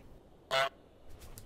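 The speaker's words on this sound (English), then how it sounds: "F***ing goose is here, just honking around." A goose in a video game lets out one short, bright honk against quiet background, followed by a few fainter, softer calls trailing after.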